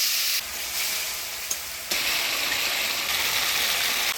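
Ground spice paste of coriander, cumin, ginger, chili, turmeric and salt hits hot oil with frying potatoes, and the steady hiss swells into loud, bright sizzling bursts close by.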